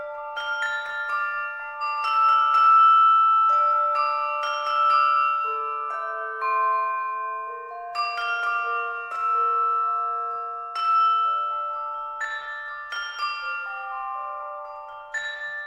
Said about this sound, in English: We've got the allophone to start off with.